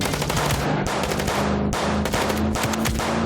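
Rapid gunfire from the video game Chicken Police rattles on continuously and loud, with dense automatic bursts layered over a steady engine-like drone.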